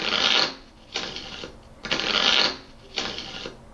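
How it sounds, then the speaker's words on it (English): Playing cards shuffled as a sound effect in a blackjack game, four quick riffling bursts roughly a second apart, each a crisp rapid flutter, close and fairly loud with no voices. "Shuffling cards."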